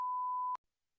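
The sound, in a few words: censor beep covering a spoken word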